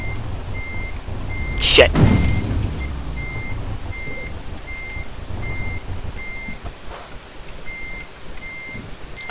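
A truck in the Euro Truck Simulator 2 driving game reverses, sounding regular, evenly spaced warning beeps over a low engine rumble. A brief loud burst comes early on, and a man swears once.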